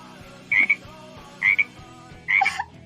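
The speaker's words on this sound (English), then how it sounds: "my frog ribbits." A toy plush frog gives three separate electronic ribbit croaks, each a short doubled chirp, spaced about a second apart. They sound close and clear over a quiet background.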